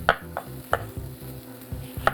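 A knife chops a red onion on a cutting board in a kitchen, about eight sharp, evenly spaced knocks, close and crisp, with no one speaking.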